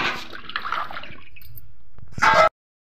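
Cut potatoes being washed by hand in water in a home kitchen, with sloshing, dripping and gurgling that thins out, then a brief louder splash of water before it cuts to silence.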